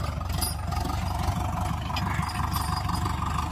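The engine of a Holland 5620 tractor runs at a steady, rough idle close by, a continuous low rumble with even texture and no speech over it.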